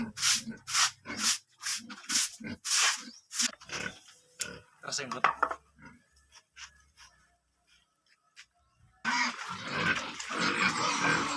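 Pigs on a pig farm grunt and snort in short bursts among a person's speech, then the sound gives way to a loud, rough rushing noise near the end.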